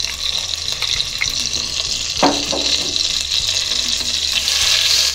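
White butter, about three tablespoons, melts in hot oil in a cooking pot for Turkish chicken soup, giving a steady close, loud sizzle and hiss with a brief clink partway through.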